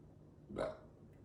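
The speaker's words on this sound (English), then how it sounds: "I've got a burp, sorry." A single short, throaty burp stands out in the middle of an otherwise quiet moment.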